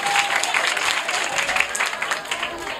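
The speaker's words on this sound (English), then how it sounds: "clap your hands for Muhammad Mbou" Children and guests clap their hands at a school awards celebration, a lively, slightly uneven patter of applause that holds steady throughout.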